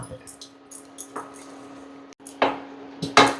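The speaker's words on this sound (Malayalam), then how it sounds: "ഇത് എത്ര നേരം ഇളക്കണം ഇതൊരു എട്ട് മിനിറ്റോളം നമുക്ക് ഇളക്കേണ്ടി വരും" Milk peda mixture being stirred in a pan, with intermittent scraping and clinking of a utensil against metal, sharper knocks toward the end, under quiet background hum.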